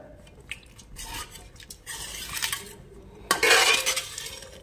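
Cooked whole green moong being mashed in a pan with a metal utensil, giving soft scrapes and clinks in irregular bursts that grow into a louder, busier scraping stretch near the end.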